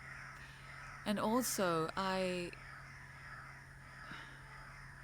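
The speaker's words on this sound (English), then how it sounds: "So many birds." Outdoors, a crow gives a few loud, harsh caws in a short burst, close by over steady background ambience, with a person speaking briefly.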